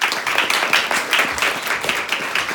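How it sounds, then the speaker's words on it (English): Audience applause at a live TALKS event, a dense crowd clapping steadily and fairly loud for a few seconds with no talking over it. "y'all give Theo a warm round of applause"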